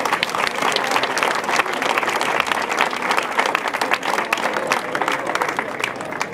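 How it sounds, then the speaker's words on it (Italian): Warm applause from the crowd at the inauguration of the Corpus Domini flower carpet in San Pier Niceto, dense steady clapping sustained for several seconds with no voices over it. "onorevole dottoressa Elvira Amata, che invito tutti a ringraziare per la gentile presenza con un caloroso applauso"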